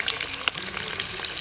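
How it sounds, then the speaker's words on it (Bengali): Eggs frying in hot oil until their surfaces brown, a steady close sizzle with faint crackles and a few brief sharp pops, alone without speech. "সব ডিমগুলো একটু লাল লাল করে ভেজে নেব।"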